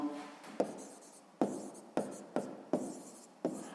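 Pen strokes on paper while working out a sixth-grade math geometry solution, a series of short scratchy marks in bursts of about six, close and fairly quiet with no talk.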